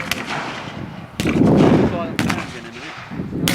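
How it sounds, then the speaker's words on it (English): British regulars fire rifle volleys in a Boer War battle game, with sharp loud cracks and booming reports that come in bursts over ringing echoes and a rumbling battlefield background. "volley firing from British regulars"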